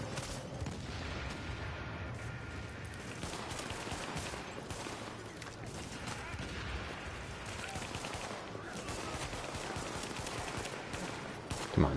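Gunfire and a grenade blast in The Division video game, a dense continuous barrage of shots with a sharp burst near the end, loud and close, with a voice talking over the fighting.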